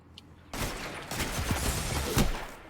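Burst of gunfire in a Destiny 2 PvP match: a sudden onset followed by a dense, continuous volley of rapid shots with a sharper crack near the end, loud and close, with no talking.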